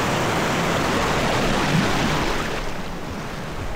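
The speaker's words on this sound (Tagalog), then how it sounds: "Yung mga nagsasurf dito, lakas kasi ng alon eh." Strong ocean surf on a New Zealand beach popular with surfers, a loud continuous roar of breaking waves, close and broad, easing slightly toward the end.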